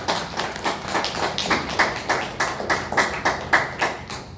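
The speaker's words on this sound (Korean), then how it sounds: "우리 하나님께 모든 영광을 박수로 올려드립니다." A church congregation claps together during a Sunday worship service, a steady rhythmic run of sharp, fairly close claps repeating roughly three times a second, with no talking over it.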